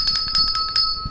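A bell rings for a morning show, with several rapid bright clangs in quick succession, close and clear with no one talking over it.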